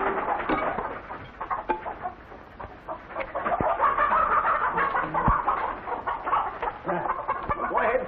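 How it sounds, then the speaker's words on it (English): Farmyard chicken clucks in short repeated bursts at close range, busy and continuous over several seconds, with little other noise. "Well, feed the chicken."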